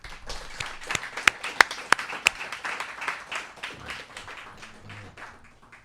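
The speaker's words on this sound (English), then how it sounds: "maybe we could all just give ourselves a round of applause for that." At an annual community meeting, a modest audience claps for its volunteers, with a few loud, sharp, close claps standing out over a looser spread of hands that gradually thins and trails off.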